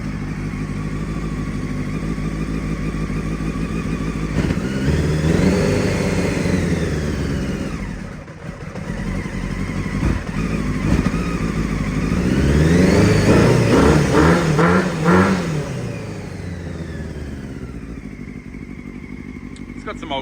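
A 1998 Honda CBR600 sport bike fitted with an aftermarket pipe idles loudly up close, then revs up twice in rising and falling sweeps before settling back to a steady idle.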